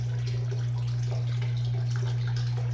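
Water runs down a gold prospecting sluice loaded with thick black sands beside the Wisconsin River, a steady close trickling wash with a constant low hum underneath.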